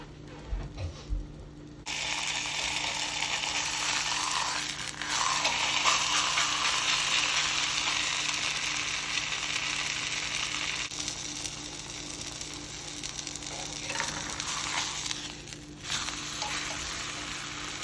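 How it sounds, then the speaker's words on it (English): A frozen scallion pancake fries on a hot cast iron skillet, starting with a few clicks and then a loud, steady sizzle that crackles on and off for a long stretch. "I'm gonna put it on this hot skillet, cast iron, and it's gonna do its thing"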